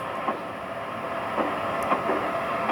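An Amtrak ACS-64 locomotive accelerating in a train simulator game gives a steady rolling rumble with faint rhythmic rail clicks, continuous and fairly loud with no talking.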